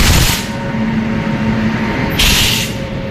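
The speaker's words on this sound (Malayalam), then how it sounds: "ഇത് നമ്മുടെ ബിലാസ്പൂരിലേക്ക് പോകുന്ന സൂപ്പർ ഫാസ്റ്റാണ്." An Ernakulam–Bilaspur superfast train passes a station in Thrissur, making a loud, steady rumble of rolling wheels and carriages with a brighter hissing surge near the start and again toward the end. No one speaks.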